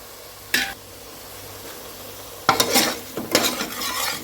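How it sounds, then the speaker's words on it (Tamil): Biryani masala stirred in a pan, with a spoon scraping and clinking against the metal in a few separate bursts over a faint steady sizzle; close and alone, no talking. "இப்போ வந்து நல்லா கலந்து விட்டுக்கலாம்"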